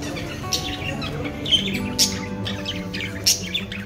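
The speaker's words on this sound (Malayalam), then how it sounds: "ഇവിടെ ലവ് ബേർഡ്സ് ഉണ്ട് കുറച്ച്" Lovebirds kept in an Arabian tea house chirp and squawk in short bright bursts, several loud calls standing out over a continuous indoor background murmur.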